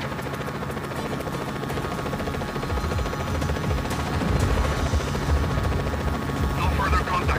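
Helicopter rotor drone from a Just Cause 4 combat scene, a steady throbbing roar that builds slightly louder toward the end, mixed with rumbling game effects and possible distant gunfire.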